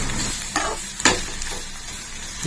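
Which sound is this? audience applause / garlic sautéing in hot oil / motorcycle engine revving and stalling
garlic sautéing in hot oil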